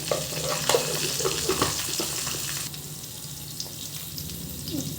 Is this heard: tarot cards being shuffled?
no